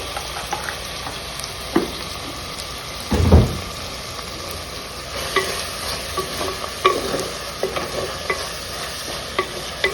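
Chopped onion with salt fries in a pan for a ridge gourd curry, giving a steady close sizzle and crackle, with a brief stirring scrape and clatter partway through.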